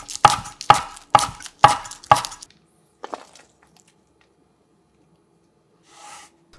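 A knife cuts a green onion diagonally into 0.5 cm slices on a board: five sharp, evenly spaced chops close up, then a couple of fainter cuts after a pause.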